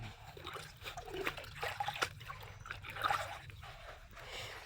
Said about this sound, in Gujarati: ઠંડુ પાણી એવું હોય એક નંબર